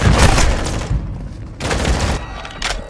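Heavy gunfire in Modern Warfare 2 during a Hardpoint match on Kunstenaar District, a loud dense volley of shots and booms that drops off briefly, then returns in two shorter bursts.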